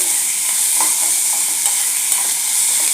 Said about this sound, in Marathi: आज इथे मी तुम्हाला फोडणी घालून दाखवते